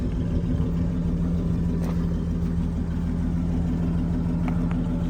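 Dodge D5N truck with a 245 Hemi engine, freshly started after five years of sitting, runs at a steady close idle with a continuous low rumble and faint ticking from dry valvetrain.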